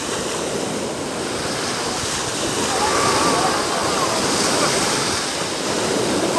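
Sea waves off Antalya splash and churn continuously around a swimmer, a loud broad rush of surf and water with wind noise mixed in.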